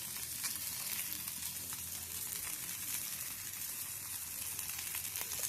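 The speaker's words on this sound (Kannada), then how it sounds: "ನಾನು ಇವತ್ತು ಫಿಶ್ ಫ್ರೈ ಮಾಡ್ತಾ ಇದ್ದೇನೆ." Fish frying Mangalore style in a pan, a continuous even sizzle of hot oil heard alone, quiet and steady throughout.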